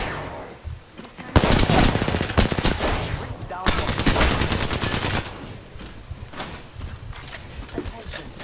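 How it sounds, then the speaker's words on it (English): Rapid automatic gunfire in the Apex Legends video game crackles in dense, loud bursts over several seconds, with shorter volleys and pauses between them. "Getting shot at."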